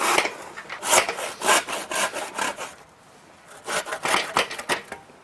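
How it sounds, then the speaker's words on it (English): A hand saw cuts timber for garden raised beds in close, rhythmic rasping strokes, roughly a dozen in two bursts separated by a short pause. No one speaks. "Let the saw do the work. Don't force it and don't rush it."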